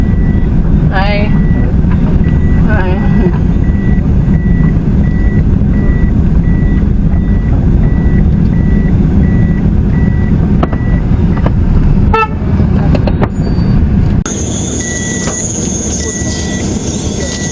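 A vehicle reverses on a hillside road in Crownland, Trelawny, while relief supplies are handed out, its loud steady warning beeps repeating at an even pace over a rumbling engine, with horn toots and people talking nearby.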